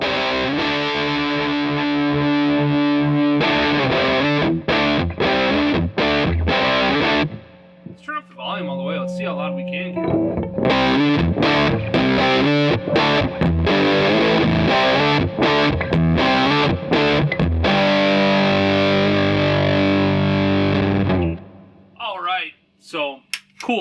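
Electric guitar played through a PedalPCB Raincoat DIY distortion pedal, loud and saturated: thick, sustained distorted chords and riffs with a brief quieter pause midway, ringing out alone near the end.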